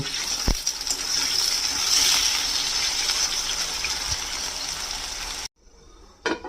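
Small-cut potatoes with a little salt fry in mustard oil in a pan, giving a steady, bright sizzling hiss that drops away abruptly near the end, leaving a brief faint crackle.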